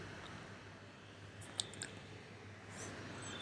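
A computer mouse gives a single sharp click, with a fainter second click just after, against a quiet low background hum.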